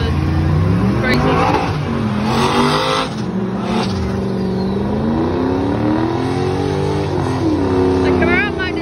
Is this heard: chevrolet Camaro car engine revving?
yes